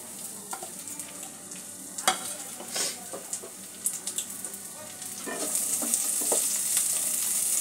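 Sliced onion and chopped green chillies sautéing in a pan, a close sizzle with irregular clinks and scrapes of stirring, growing into a louder, brighter hiss toward the end.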